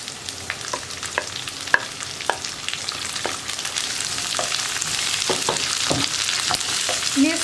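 Grated coconut frying and being stirred in a pan with curry leaves for a jackfruit masala, a steady close sizzle with repeated sharp scraping and stirring clicks throughout.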